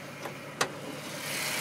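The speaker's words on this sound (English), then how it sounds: "I promised you some sound just so I can show you the motor running in perfect condition" A Ford BA Mark II Supercab ute engine runs at a quiet, steady idle, a soft hiss-like hum broken by a couple of brief clicks.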